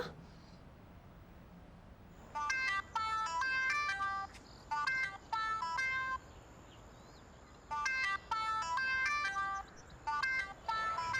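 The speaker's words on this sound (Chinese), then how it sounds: "我打个电话给他，他又不接" A phone ringtone plays in repeated bursts of a bright electronic melody, pausing between rings and never picked up, over quiet background hiss.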